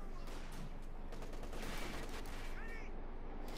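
Gunfire from a Company of Heroes 2 match, with an M1 gun opening up on a Panzer IV tank: dense, continuous battle noise of overlapping shots and impacts, steady and moderately loud throughout.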